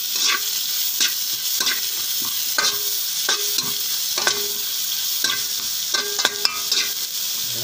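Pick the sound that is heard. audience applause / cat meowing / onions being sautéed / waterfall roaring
onions being sautéed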